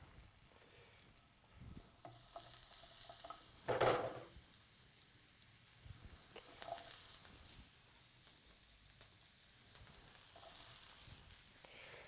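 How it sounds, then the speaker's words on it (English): Sausage, sliced peppers and onions dropped into a pan set off a loud burst of sizzling with a clatter, then settle into a quieter steady frying hiss with occasional scrapes, close and without speech. "now let's add this into our pan"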